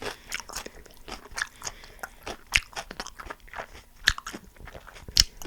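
Close crunchy bites and chewing of fresh cucumber dipped in mayonnaise, several sharp crisp snaps followed by wet mastication, recorded near the mouth with no talking.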